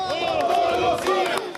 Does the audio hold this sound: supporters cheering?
yes